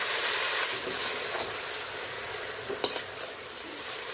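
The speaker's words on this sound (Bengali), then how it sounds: "ভালোভাবে নেড়ে চেড়ে এইভাবেই এক মিনিট পরে পরে নেড়ে চেড়ে ভেজে নেব" Jute leaf greens stirred and fried in a pan, a steady close sizzle with soft scraping strokes and a couple of brief utensil clinks near the end.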